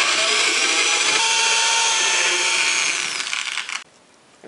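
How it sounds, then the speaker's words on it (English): A power drill runs steadily as it bores a hole, a loud, close whine that winds down and cuts off near the end. "I'm going to drill a second hole."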